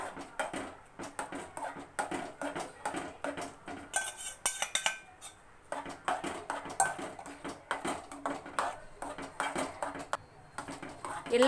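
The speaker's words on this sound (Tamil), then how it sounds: "கொஞ்சம் கொஞ்சமாக சேர்த்து அப்படியே கிண்டுங்க" Rava kesari being stirred in a metal pan as cane sugar syrup is added bit by bit, with steady scraping and clinking of a spoon against the vessel throughout, close and fairly loud.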